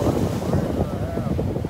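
Strong beach wind buffets the microphone with low rumbling gusts, with surf at Vanderbilt Beach blending into the roar, continuous and close.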